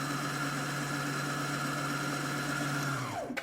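A Britannia T190/120 sewing machine winds a full bobbin with a steady, even motor whir that holds constant, then winds down and stops on its own at the end.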